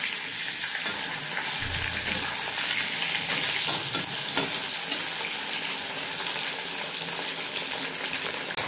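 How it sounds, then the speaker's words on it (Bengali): Fish fries in a hot pan, a close, steady crackling sizzle with occasional spatters and a few stirring clinks, no voices. "আর এদিকে মাছ ভাজাও করে নিচ্ছি, গরম গরম মাছ ভাজা দিয়ে ভাত খাওয়া হবে"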